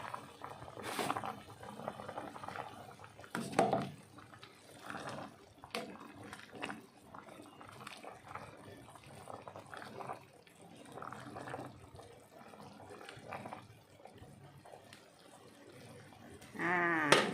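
Water is added to a simmering pot of spicy Thai tom saep soup, making faint bubbling and light sloshing, with a louder splash of liquid near the end.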